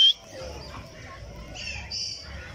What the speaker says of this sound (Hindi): ये तोतों के पिंजरे हर किस्म के तोते हैं।